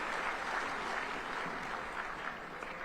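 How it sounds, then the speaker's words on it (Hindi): Applause from an audience welcoming a guest at a sports festival event in Nagpur, a steady wash of clapping heard faint and somewhat distant throughout, with no talk over it. "माननीय नितिन जी, एक बार उनके लिए जोरदार ताली बजाकर उनका हम स्वागत करेंगे"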